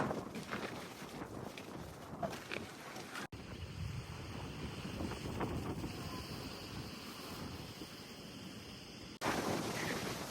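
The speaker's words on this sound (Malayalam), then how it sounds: "നല്ല കാറ്റാട്ടോ." Strong wind buffeting a misty hilltop at Kakkadampoyil in Kozhikode, a continuous loud roaring rush against the microphone with gusts swelling and easing, and no voices.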